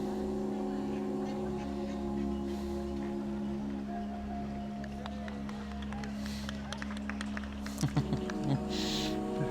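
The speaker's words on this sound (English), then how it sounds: "Someone's just turning a boat round, you'll see it in a second." A boat engine drones steadily with a low rumble, shifting pitch as it maneuvers, while people chatter and call out in the background.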